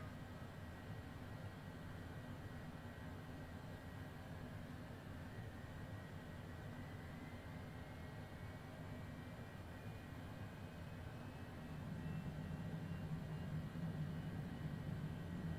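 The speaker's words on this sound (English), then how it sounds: "We'll go ahead and start the right engine here." A Cessna Citation Longitude's right jet engine spooling up in Microsoft Flight Simulator 2020, a steady airy engine roar with a faint slowly rising whine that grows a bit louder near the end, heard quietly with no talking.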